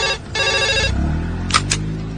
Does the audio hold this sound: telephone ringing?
yes